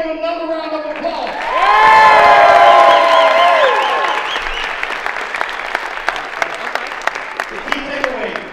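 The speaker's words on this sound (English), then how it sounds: "Let's give them another round of applause." An audience breaks into applause with cheers and whoops swelling, then settling into scattered clapping.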